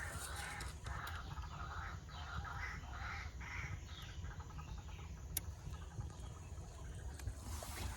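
Faint, distant bird calls at dusk rise and fall over a low, steady background rumble, with no voices nearby.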